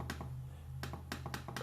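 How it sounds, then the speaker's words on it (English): Sharp, loud clicks from the clickpad of a Toshiba Satellite S-55C laptop, several spaced presses in an irregular rhythm, close-up with no talking. "The one thing that I will say is that the clickpad is really loud."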